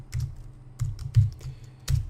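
Someone taps on a computer keyboard in short, irregular clusters of close, soft clicks with brief pauses between them, alone and without talk.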